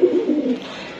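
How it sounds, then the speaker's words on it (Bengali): A pair of pigeons, male and female, coo close by in one short, soft, throaty call that fades out within about half a second, with no talking. "এক জোড়া কবুতর"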